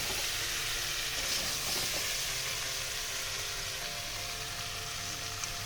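Pumpkin curry with fried potatoes and prawns being stirred in a pan, a steady soft sizzle with gentle scraping and stirring throughout, close and uninterrupted.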